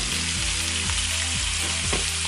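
Hot oil in a pan ahead of cooking a garlic parmesan steak gives a steady, loud sizzle and crackle, close up, with a low background hum and no talk.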